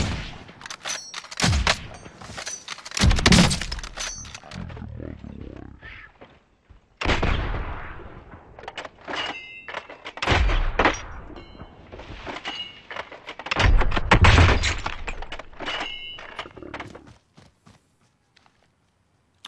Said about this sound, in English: he's being sniped at